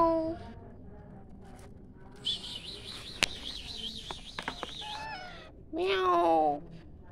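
A cat meows at a roadside dhaba in India, with a long wavering cry in the middle and a louder falling meow near the end, amid quiet background noise and a few sharp clicks.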